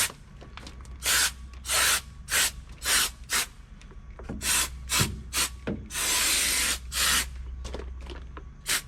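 KrakenBond waterproofing coating being sprayed in short repeated bursts, each a sharp, close hiss lasting under a second, with one longer spray near the end and quiet gaps between.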